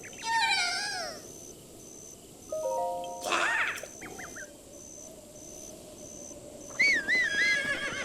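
A horse whinnies in The Legend of Zelda: Breath of the Wild, with a second neigh near the end, over a steady low hum and faint tones.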